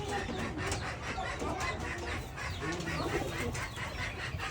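Doves and young chicken chicks in a home garden, with soft cooing, clucking and faint chirps and wing flutters over steady outdoor background noise, close by and continuous.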